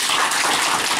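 Soft, dense patter of weak clapping from a church congregation at a Friday evening service, sounding like raindrops drumming on a roof, continuous and even with no voices.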